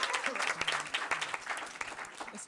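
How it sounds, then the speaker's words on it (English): Applause breaks out at a Franklin Township, New Jersey council meeting, a moderate crowd clapping with scattered sharp claps over a couple of seconds, heard from a little way off with voices mixed in. "give them an applause"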